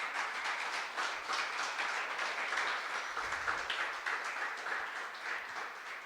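A church congregation claps in praise, a sustained, moderately distant patter of many hands that stays even for several seconds with no voices on top.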